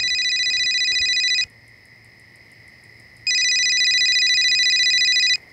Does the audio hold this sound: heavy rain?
no